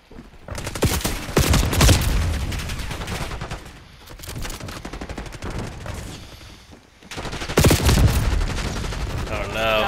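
Dense, loud bursts of automatic gunfire and fusillades fill a Call of Duty firefight, with rapid rattling volleys swelling and easing across the stretch while players talk over the shooting.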